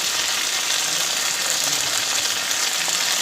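Okra fries in a pan as turmeric is stirred through it, giving a continuous soft hiss with light scraping movement. The sound is steady and moderately loud, and no one speaks.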